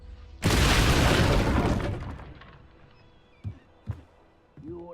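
Confringo blast spell in the Hogwarts Legacy video game exploding with a loud, sudden boom and crashing debris that fades out over about a second and a half, followed by a few faint thuds.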